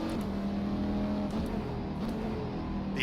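A GTE race car in rFactor 2 drones at steady high revs around the Paul Ricard circuit, a loud continuous engine note that dips slightly and climbs again, with no talk.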